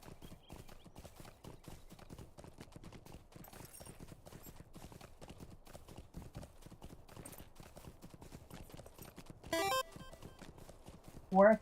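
Horse hooves clip-clop in a steady, rapid rhythm in the video game Lord of the Rings Online, faint and continuous, with a couple of brief louder game sounds near the end.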